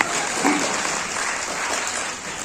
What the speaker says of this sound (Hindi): ताली इसकी ज्यादा बजेगी,